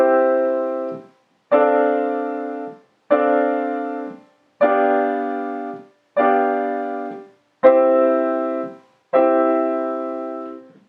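Piano playing the opening eight measures of Bach's C Major Prelude, seven sustained chord-like blocks of notes with brief silences between them, evenly spaced, close and clear with no talking.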